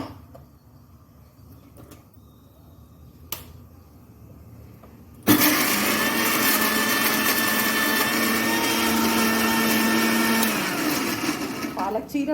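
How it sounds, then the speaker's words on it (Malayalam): After a quiet start, a kitchen mixer grinder starts abruptly and whirs loudly and steadily while grinding garlic, ginger, green chilli, onion and tomato into a paste, running for about seven seconds. "വെളുത്തുള്ളിയും ഇഞ്ചിയും പച്ചമുളകും സവാളയും തക്കാളി നന്നായിട്ട് മിക്സിയിലിട്ട് അരയ്ക്കണം"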